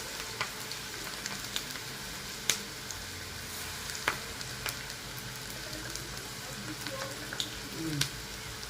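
Cabbage pakoda batter frying in oil over a low flame, a steady soft sizzle with scattered small pops and crackles, faint and continuous throughout.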